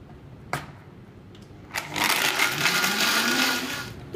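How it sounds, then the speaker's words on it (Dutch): Blender whirring as it mixes coffee, milk, syrup and ice cubes, starting after a few clicks and knocks and running loud and steady with a rising motor pitch. "En zet de blender aan voor ongeveer 10 seconden."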